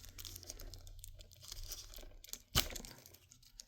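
Tough plastic packaging on a Blu-ray steelbook being torn and crinkled close up, a quiet rustling scrape with one sharp crackling rip near the end.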